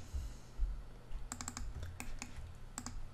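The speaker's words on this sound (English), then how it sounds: "I'm gonna double click on the legs, and I'm gonna go to cut" Quick, close clicks of a computer mouse while working in Maya, several double clicks and single taps in short bursts over a faint steady hum, with no talking.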